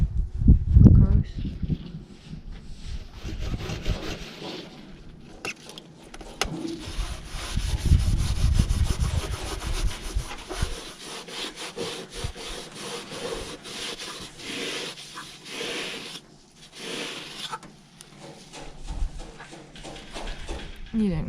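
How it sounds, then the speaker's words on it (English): Scotch-Brite pad soaked in thinners scrubbing the bulkhead top of a Rover P4, a repeated rough rubbing and scraping that stays close, with occasional speech over it. "The only way of getting it off, I found, really, is Scotch-Brite with some thinners on."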